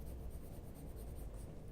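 Colored pencil shading dark tones on paper, a soft continuous scratchy rasp of strokes, close and quiet, with no talking.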